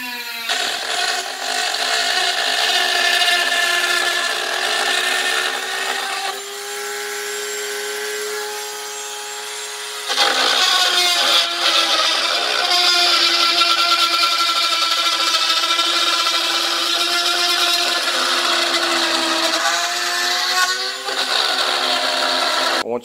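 A power tool grinds burrs off the cut end of 3-inch snorkel pipe for a DIY Honda Talon snorkel, its high whine running steadily and close with a brief lighter stretch midway.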